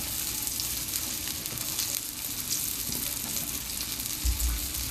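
Breaded vegan seitan cutlets fry in a pot with a steady, dense hiss and crackle of hot oil, close and continuous, with a soft low bump near the end.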